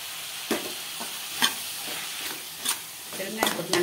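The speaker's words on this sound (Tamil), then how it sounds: "வெங்காயத்தோட தக்காளி நல்லா வந்து நெசிற அளவுக்கு நல்லா வந்து வதங்கிடுறேன்." Chopped onion and tomato sauté in a pan for village-style tomato chutney, a steady close sizzle broken by scraping stirs of the spoon at irregular intervals, with no voices.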